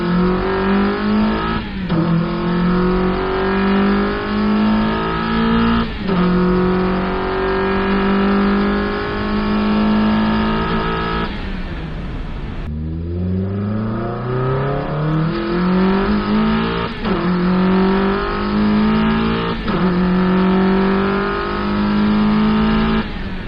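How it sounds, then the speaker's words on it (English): Mazda Miata accelerating hard from second through fourth gear with nitrous, the engine note climbing loudly in repeated rising sweeps, dropping briefly at each upshift, steady and close throughout. "Here's a second through fourth gear pull off the nitrous, followed by the same pull with nitrous active."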